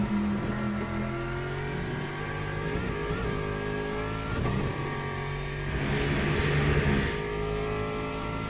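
A racing car engine in Le Mans Ultimate at Monza, heard as steady sustained engine tone with shifting revs and harmonics, loud and continuous throughout without speech.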